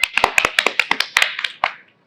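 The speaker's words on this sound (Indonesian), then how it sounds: "Beri tepuk tangan yang meriah." A few people clap at a comedy show, a quick run of sharp, close hand claps that thins out and stops within about two seconds.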